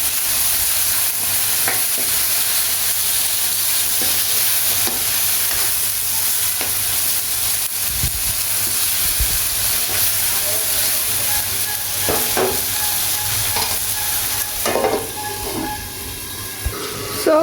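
Spiced potatoes frying with shrimp in a pan, a loud steady sizzle punctuated by irregular scraping and knocking of a spatula stirring, growing busier toward the end, no voices.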